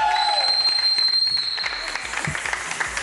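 Applause from a studio audience on a Portuguese-language TV afternoon show, welcoming a three-member dance and singing group; steady clapping fills the room, with a host's voice and sustained tones over it early on.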